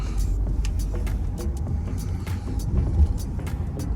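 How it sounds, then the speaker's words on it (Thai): A Chinese passenger van with a sunroof drives along, its engine and road noise a steady low rumble close by, with faint clicks and rattles from inside the cabin. "เป็นรถตู้จีนครับ"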